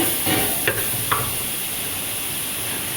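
Turmeric powder and other spices sizzle in hot oil in a pan while being stirred, a steady close frying hiss broken by a couple of brief scraping strokes, with no voices.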